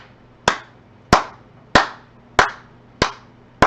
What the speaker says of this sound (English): Those are some good claps right there, son.